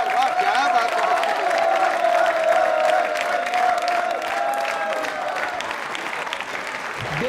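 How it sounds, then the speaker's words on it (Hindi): A studio audience at a Yoga Day quiz show bursts into loud, sustained applause for a contestant, a dense crowd of clapping hands with a sustained vocal tone and voices mixed over it throughout. "तालियां जोरों से बजाइए, जोरदार तालियां, जोरदार"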